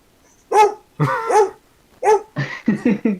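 A dog barks close by in a series of sharp, loud barks: a few spaced single woofs followed by a quicker cluster, with no speech over them.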